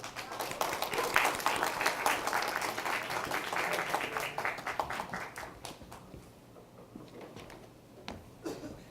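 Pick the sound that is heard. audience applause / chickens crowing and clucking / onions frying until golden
audience applause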